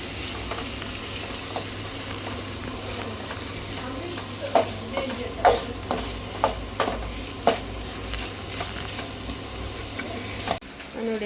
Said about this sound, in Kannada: ಲೋ ಫ್ಲೇಮಲ್ಲಿ ಅದನ್ನು ಚೆನ್ನಾಗಿ ಫ್ರೈ ಮಾಡಬೇಕು.